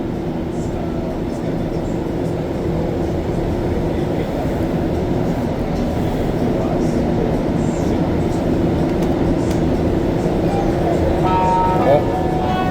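A Montreal Metro MR-73 train rides on the Green Line between Viau and de l'Église stations, a loud steady interior rumble and roar of rubber-tyred running with faint rattles and brief high squeals near the end.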